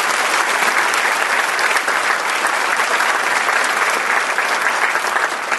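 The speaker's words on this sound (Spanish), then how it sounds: "Recibamos con un fuerte aplauso" An auditorium audience at a business association conference breaks into dense, loud, sustained applause welcoming a speaker, a continuous sheet of clapping from start to finish.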